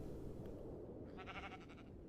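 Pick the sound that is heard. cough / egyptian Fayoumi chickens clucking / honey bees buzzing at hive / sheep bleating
sheep bleating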